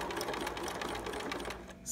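A sewing machine zigzag stitching Velcro onto a preemie shirt, a rapid rhythmic mechanical whir and clatter running steadily, close and fairly quiet, stopping just before the end.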